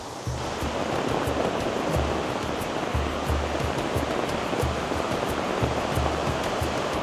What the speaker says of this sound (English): It's a f***ing huge waterfall right here.